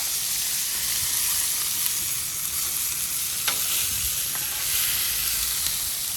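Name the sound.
New York strip steaks searing on a Blackstone griddle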